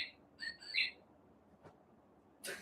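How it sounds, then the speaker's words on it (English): A cuckoo clock chimes the hour with recorded bird calls, giving bright chirping whistles in a quick cluster and then another short chirp a moment later, fairly clear against a quiet room. "It's my cuckoo clock going off. It does bird calls on the hour."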